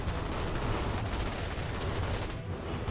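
Sustained gunfire in the Starship Troopers: Terran Command strategy game, a thick continuous battle din of many overlapping shots, steady and loud, with a brief dip near the end.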